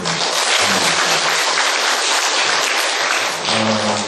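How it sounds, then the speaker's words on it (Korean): A church congregation claps together to welcome a newly joined deacon, a sustained, even round of applause filling the room for about four seconds. "여러분 박수로."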